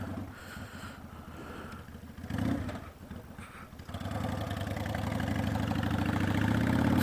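Honda Shadow motorcycle engine idling, a low, steady rumbling throb that grows fuller after a brief pause, heard up close with no talk.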